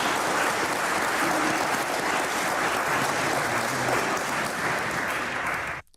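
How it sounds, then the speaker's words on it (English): Audience at an Oxford debate clapping loudly and steadily, a dense, sustained applause from a large crowd for about six seconds before it cuts off abruptly. "They're always clapping for the stupidest things. These crowds."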